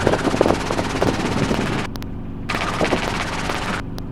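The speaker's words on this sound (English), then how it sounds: "Keep the tail behind the helicopter." Helicopter in flight during a training lesson approaching runway 28, a loud continuous rotor and engine roar with rapid chopping beats, steady and close throughout with brief dips.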